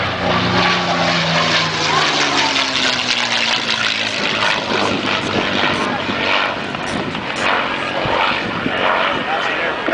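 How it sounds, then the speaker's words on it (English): P-51 Mustang fighter with a closely cowled Merlin engine and six short exhaust stacks per side makes a loud, close flyby, its propeller drone sweeping down in pitch as it passes. "Let's listen as his son Chris comes by in the B-51 Mustang."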